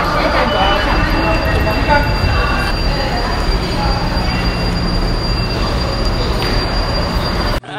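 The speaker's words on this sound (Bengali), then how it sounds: "ট্রেন অলরেডি চলে আসছে, তো আমরা এখন ট্রেনে ওঠার জন্য যাচ্ছি।" A high-speed bullet train pulls into a platform in China with a loud, steady rumble and a high wheel squeal that holds for several seconds before cutting off abruptly.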